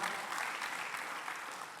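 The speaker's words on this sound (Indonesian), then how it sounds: "Boleh berikan tepuk tangan buat Tuhan Yesus kita" A church congregation at a Christmas service claps together, a short burst of dense, even applause heard from a distance and fairly faint, with no speech over it.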